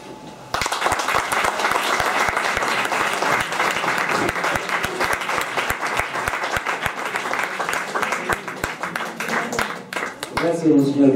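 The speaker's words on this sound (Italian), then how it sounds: "un applauso che sta bene perché non è l'omelia" Sustained audience applause after a speech at a book presentation, a dense crowd of clapping hands that begins abruptly and continues steadily for several seconds before a voice briefly comes in at the end.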